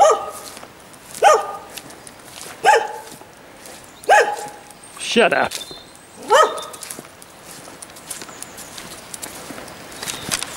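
Dogs bark in short bursts, about five or six loud volleys spaced a second or so apart, with a brief spoken remark among them.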